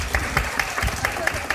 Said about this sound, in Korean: 좋은 질문 해주신 사모님 박수 한번 보내드릴까요?